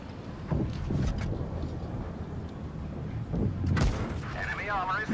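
Tank cannon shots in World of Tanks Blitz come as a few heavy booming blasts, the loudest one near the end, over wind-like rumble and game noise.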